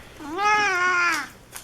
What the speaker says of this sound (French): 4 chats dans les pattes.